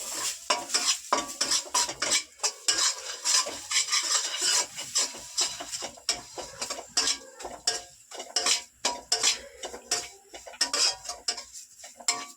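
Gram flour (besan) frying with turmeric and ginger paste while a utensil scrapes and stirs continuously against the pan, a dense, rhythmic rasping with a faint sizzle underneath.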